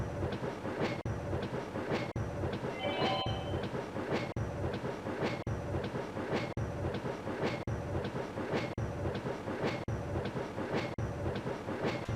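Train running in a Namco arcade train game: a steady rumble of wheels with regular clickety-clack beats about once a second, loud and continuous, with a brief squeal partway through.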